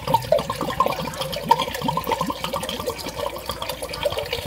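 Wine pours steadily from a bottle with a gurgling, trickling stream, fairly close and continuous throughout.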